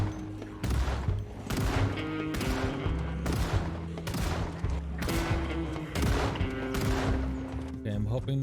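Gunfire in the zombie survival game Project Zomboid, a rapid series of loud sharp reports in repeated bursts of several shots, roughly a burst every second, with short gaps between them.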